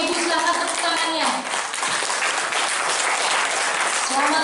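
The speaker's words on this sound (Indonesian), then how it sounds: "Boleh Bapak Ibu silakan tepuk tangannya" An audience at a Pemuda Batak Bersatu declaration event in an indoor hall breaks into sustained, dense applause that holds steady throughout, with a voice carrying over the clapping.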